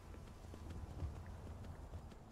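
Horse hooves clip-clop in Skyrim, a faint, steady run of soft hoofbeats on the ground at a walking pace, heard alone in a quiet scene.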